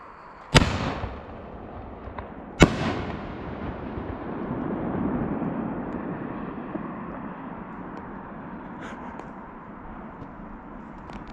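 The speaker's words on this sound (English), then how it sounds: "Alpha Fireworks, their shells, their willow shells are the best" Two sharp, loud bangs from willow shell fireworks at New Year a couple of seconds apart, followed by a long, fading crackle and rumble as the sparks burn out.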